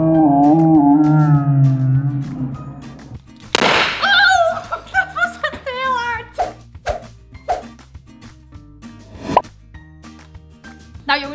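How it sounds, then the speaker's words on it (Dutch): A cheap confetti cannon for Euro championship celebrations goes off with one sharp, loud pop, followed by a few smaller rustling pops, while people talk and exclaim before and after it. "dan ga ik confetti knallen"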